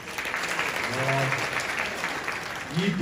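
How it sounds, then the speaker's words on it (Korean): Audience applause at a hanbok model contest ceremony, dense steady clapping from a large crowd filling the room, with a voice speaking over it. "여러분 큰 박수 다시 한번 부탁드리겠습니다"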